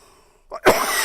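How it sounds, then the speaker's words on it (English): A single throaty cough after a brief quiet moment, sharp and close, followed by a short burst of breathy noise. "And I am still coughing in your ear, and I do apologize."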